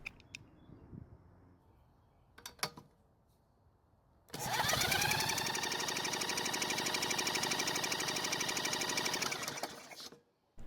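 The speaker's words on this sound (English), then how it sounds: "use a drill to spin the engine over" Electric drill spinning a Bolens edger engine over for a compression test: a loud, steady whirring crank with a rhythmic chug lasting about six seconds after a few short clicks, then stopping abruptly.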